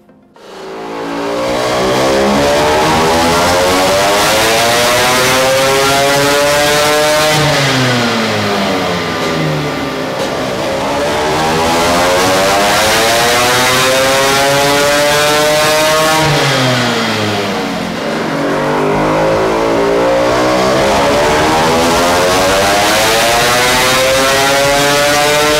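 A Vespa engine fitted with a new exhaust runs on a testbench. It revs up and down in long, loud sweeping cycles, close and continuous, with no voices.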